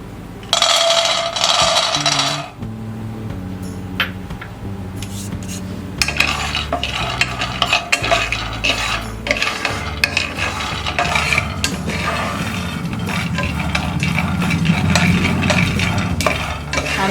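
Peanuts dry roasting in a pan with no oil, stirred steadily with a utensil that scrapes and clinks against the metal for a long stretch, close and fairly loud, with a soft sizzle underneath.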